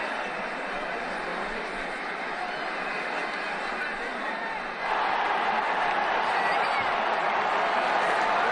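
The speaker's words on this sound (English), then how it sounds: "The crowd really enjoyed that one." A stadium crowd in a cricket video game roars loudly and steadily after a four is hit, the dense cheering swelling brighter partway through.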